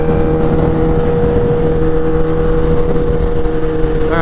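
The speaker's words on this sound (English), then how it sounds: "Currently the bike is loud because I have removed the slip-on." Kawasaki Ninja H2 motorcycle with its exhaust slip-on removed, ridden on a highway: a loud, steady engine drone with a constant tonal hum and road rush, sustained throughout with no talking.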